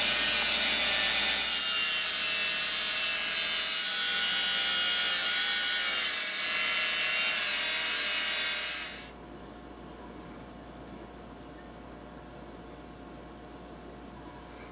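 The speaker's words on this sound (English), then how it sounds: "Some plastic polish, and I've got this Dremel-like tool with just a buffing attachment." A Dremel-like rotary tool with a buffing attachment whines steadily as it polishes a wood ring with plastic polish, running loud and close for about nine seconds before shutting off to a quiet room hum.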